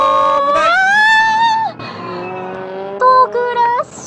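Race car on track with rising engine pitch and tire squeal, then an abrupt break and lower skidding tones before a second burst of squealing, loud and close.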